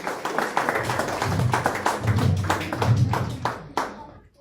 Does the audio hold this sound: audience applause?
yes